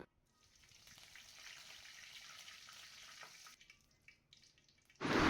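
Fennel seeds and curry leaves sizzle and crackle in hot oil in a pan, a steady bright frying hiss that swells, wavers briefly, then ends in a louder burst of sizzling.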